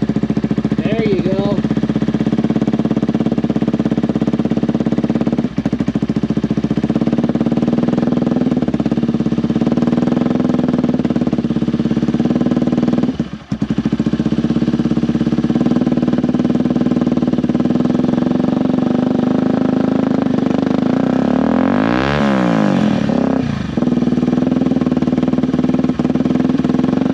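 A Yamaha TW200 motorcycle engine runs with the choke on, giving a steady, close, loud idling drone that holds evenly throughout with only brief dips.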